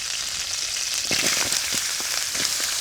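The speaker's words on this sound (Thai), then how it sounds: "ผัดหัวหอมก่อน" Onions are stir-fried in a pan in an outdoor bamboo-forest kitchen. A steady, bright sizzle runs the whole way, broken by several short scraping stirs, close and alone with no talk.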